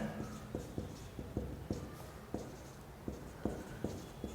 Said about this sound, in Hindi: यहाँ पर लिख सकते हैं